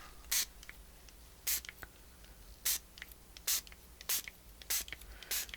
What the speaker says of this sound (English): I wish there was a way to control the spray